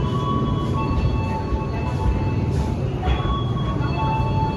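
A train at an Indonesian railway station, a steady low rumble with faint high metallic squeal tones throughout, continuous and moderately loud.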